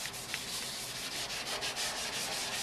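Scotch-Brite pad scrubbing rust and old primer off a steel truck bed side, a quiet close rhythmic rasping rub with repeated short strokes and no talking.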